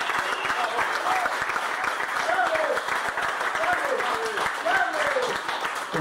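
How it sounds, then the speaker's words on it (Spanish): Audience applause at the reopening of a renovated social club, steady clapping from a crowd throughout with a voice talking over it on a loudspeaker. "Un aplauso para Gustavo Lemagrese, para Dona, para su famili"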